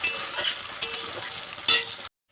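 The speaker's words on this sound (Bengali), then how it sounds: "দেখতেই পাচ্ছেন আলুগুলো কিন্তু একটু ভাজা ভাজা হয়ে গেছে" Potato pieces fry in a pan with a steady close sizzle, broken by a few sharp scraping bursts from stirring before the sound cuts off abruptly.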